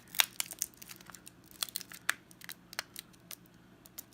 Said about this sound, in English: Let's take off the plastic.